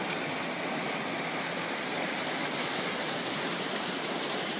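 A mountain stream high on a hillside rushes continuously, a dense, even hiss of flowing water heard close and loud throughout with no voices.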